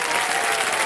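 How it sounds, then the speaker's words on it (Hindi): A studio audience breaks into loud, dense applause for contestant Ravi on a quiz-show stage, a brief continuous burst of clapping. "तालियां बजाएं रवि के लिए"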